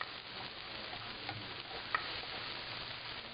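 Onions cooking with mango barbecue sauce and hot sauce in a pan give a soft, steady sizzle with faint stirring, low and even throughout with one small tick partway.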